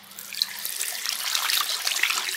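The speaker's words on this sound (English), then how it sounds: "I then dampen my face." Water splashing and trickling as a face is dampened during a skincare routine, a steady wet patter with small splashes throughout, close and fairly quiet, with no talking.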